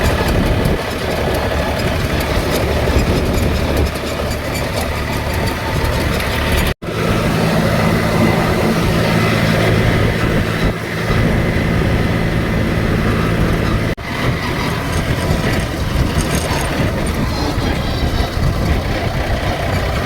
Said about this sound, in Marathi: मी जातो पुढं ट्रॅक्टर घेऊन.